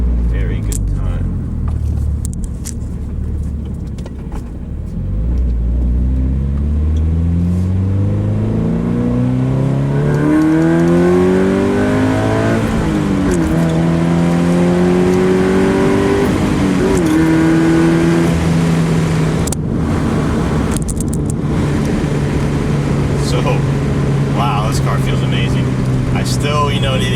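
A 2020 Toyota 86 with a manual gearbox accelerating hard, its engine climbing in pitch through several gears with brief dips at each shift, loud and close from inside the car.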